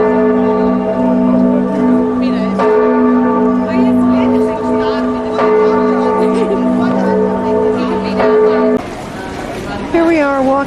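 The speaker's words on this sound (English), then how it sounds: "Bells are ringing." Church bells ring at noon from a bell tower, sustained resonant tolling with steady overlapping tones, heard up close, with people talking throughout until a sudden shift near the end.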